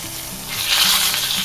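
A salmon fillet sizzles in a hot pan just after being flipped, a bright crackling fry that swells into a louder hiss midway, with no talking.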